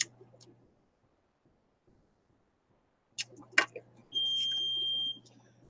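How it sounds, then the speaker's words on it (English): A timer in a craft workspace sounds one steady electronic beep lasting about a second, following a few soft rustles and taps in an otherwise quiet room. "Go turn that timer off."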